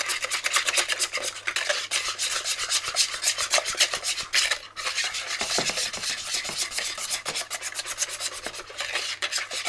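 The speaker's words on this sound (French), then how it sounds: "Maintenant, je vais finir de fouetter" Eggs being hand-whisked in a bowl with a whisk, giving a steady, rapid rasping and scraping rhythm that is close up and fairly quiet, with no talking.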